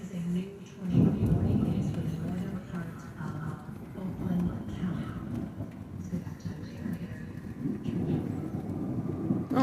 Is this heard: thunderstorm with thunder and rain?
yes